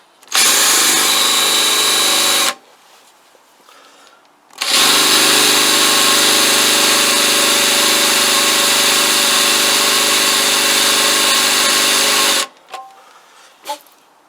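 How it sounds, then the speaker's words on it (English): An electric drill with dull bits whines against metal during work on a Kawasaki GPZ500S motorcycle head and barrel: a short two-second burst, a pause, then a loud sustained run of about eight seconds before it cuts off. "The drill bits are not even sharp. They won't even cut into the fucking metal."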